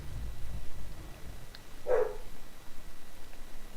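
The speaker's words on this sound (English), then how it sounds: "Piper started barking" A dog named Piper gives one short, faint bark at a distance, standing alone against a low background hum in a home.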